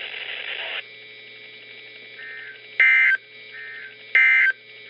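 A Reecom R-1650 weather radio receiver sounds an EAS weekly test alarm: a short burst of noise, then a steady electronic tone broken by two loud, sustained beeps.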